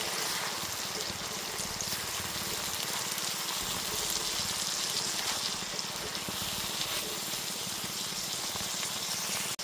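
Ground tomato paste sautéing in a pan for a chicken curry, making a continuous dense hiss and bubbling sizzle heard up close at a steady level, with no talking.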